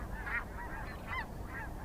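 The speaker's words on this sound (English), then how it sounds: "the snow geese, they continued to fly overhead" Snow geese flying overhead in large flocks, their nasal honks coming in several overlapping bursts at a moderate distance over a low outdoor wind rumble, with no one speaking.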